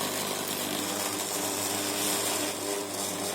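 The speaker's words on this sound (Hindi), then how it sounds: "ज़रा सा सूखा आटा डाल देते हैं क्योंकि हल्का गीला लग रहा है, और मशीन फिर चलाते हैं।" An electric chopper mixer kneads atta dough, droning with a continuous loud motor whir and grinding rumble that holds steady from start to finish, close by with no voices.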